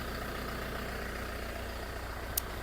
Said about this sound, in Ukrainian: Зараз те, що зліва трактор перевіряється, нагрівають його хлопці.